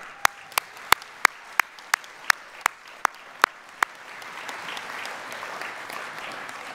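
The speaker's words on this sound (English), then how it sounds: "Give her a round of applause" Applause for a singer at the Conwy Sports Awards 2018 ceremony: a run of sharp, evenly spaced claps stands out close by, then gives way to a softer, steadier wash of crowd clapping.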